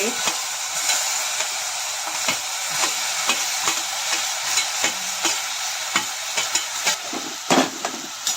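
Banana slices fry in ghee in a wok, giving a steady close sizzle with frequent sharp spatula scrapes and clicks as they are stirred.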